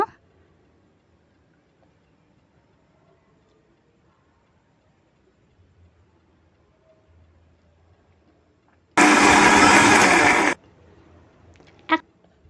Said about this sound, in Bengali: তারপরে মিক্সিটা চালিয়ে নেব কিছুক্ষণের জন্য